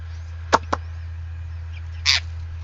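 Pet parrot squawking angrily at home, two sharp harsh calls close together, then a longer raspy squawk a moment later, loud against a steady low hum.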